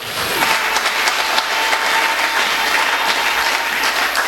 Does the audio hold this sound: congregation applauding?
yes